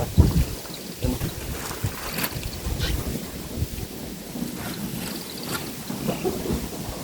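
Wind blows hard outdoors on a farm in Laos where cucumbers are being picked, a loud, continuous rumbling gust buffeting the microphone for the whole span.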